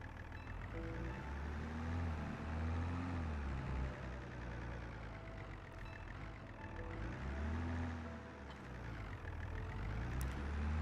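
Tractor engine in Farming Simulator 22 running steadily throughout, a loud, low diesel drone with a rising and falling pitch as the throttle shifts, heard alone without talk.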